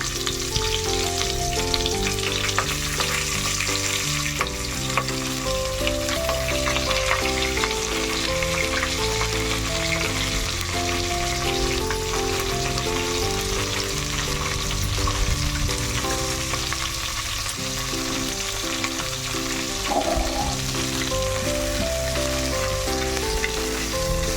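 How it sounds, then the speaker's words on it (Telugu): Onions and green chillies frying in a pan for coconut rice, producing a continuous dense crackling sizzle like steady rain, close and even in loudness throughout with a faint background tone underneath. "ఇప్పుడు ఈ ఆనియన్స్ ఆనియన్స్ అలాగే పచ్చిమిరపకాయలు కూడా ఇప్పుడే వేసుకుంటున్నాను"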